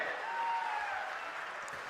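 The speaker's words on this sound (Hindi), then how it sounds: "एक बार जोरदार तालियों से हम उनका स्वागत करते हैं।" A crowd at an outdoor political rally welcoming Rahul Gandhi applauds steadily, a dense wash of clapping that stays level throughout, with a faint tone running under it.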